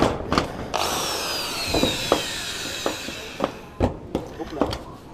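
A nail gun driving nails into tin roofing on a rural house, sharp repeated bangs at irregular intervals over a steady mechanical whine, with people talking nearby.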